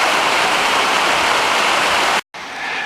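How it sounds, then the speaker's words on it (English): Small waterfall coming down through LeConte Canyon in the Sierra, a steady close rushing splash of water that cuts out briefly near the end, with no talk. "Nice little waterfall coming down through here."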